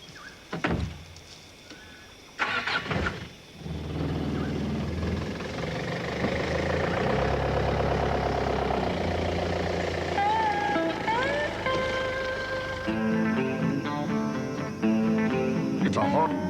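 A car starts up and drives along a hot, dry outback road toward the west coast, its engine droning steadily after a few door and handling knocks, while someone talks over it and music rises near the end.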